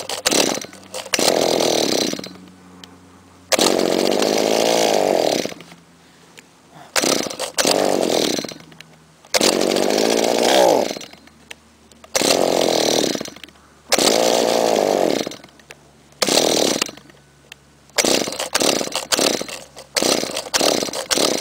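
A gas string trimmer, unused for a month and a half, is pull-started again and again, each attempt a short loud engine burst of one to two seconds, close up and separated by brief silences.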